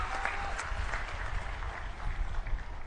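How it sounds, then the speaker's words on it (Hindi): An audience at an Aam Aadmi Party political rally in Gujarat claps loudly and steadily, a dense wash of applause from a large crowd that holds its level throughout. "एक बार जोरदार ताली बजा दीजिए"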